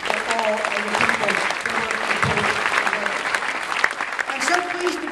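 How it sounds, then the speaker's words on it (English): Sustained applause from a gala audience fills the room at steady loudness, with cheers and voices mixed into the clapping throughout. "let's give it a round of applause for all of the people"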